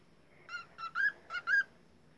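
A pet bird indoors giving five short, clear, whistled notes in a quick uneven series, close and fairly soft, with no other sound around it.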